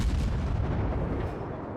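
Naval cruiser guns of the USS Omaha firing in the World of Warships video game, a dense, loud rumbling broadside boom that fills the clip and slowly fades.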